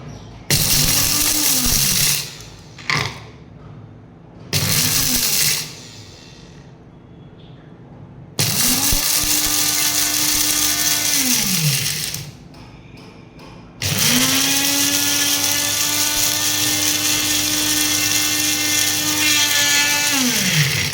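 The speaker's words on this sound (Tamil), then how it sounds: "இப்போது பிளெண்ட் பண்ணி எடுத்துக்கலாம்" Mixer jar blender grinding dry powder ingredients for a homemade weight-loss powder, running in repeated loud bursts that rise and wind down between pulses, with longer whining runs near the end and no talk.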